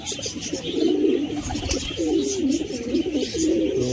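Domestic pigeons coo repeatedly in a nearby coop, a series of soft throaty rolling calls in close succession, with faint background noise and no speech.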